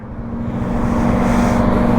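A Lamborghini passes during a morning ride, its engine a steady low drone that swells louder as it approaches, with no voices.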